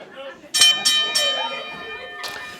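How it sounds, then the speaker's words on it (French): A wrestling ring bell at an intergender wrestling show clangs three times in quick succession and rings on, followed by a fourth strike, while an announcer talks over it. "Et son de la cloche."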